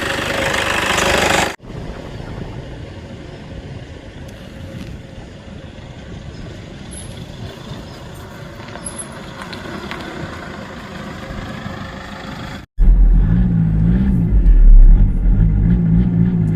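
A Toyota Innova G with a 2KD turbo diesel engine runs steadily on a test drive, its low rumbling drone continuous for most of the stretch before cutting to a louder, closer engine note near the end.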